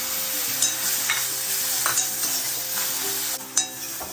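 Banana pieces fry in a pan with sesame seeds, cashews, almonds and pistachios, giving a close, continuous sizzle with repeated stirring scrapes and clinks.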